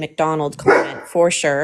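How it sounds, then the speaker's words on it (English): Dog barks sharply and close by, a couple of loud yaps breaking in around a man's speech during an online political discussion. "Sorry about my dog."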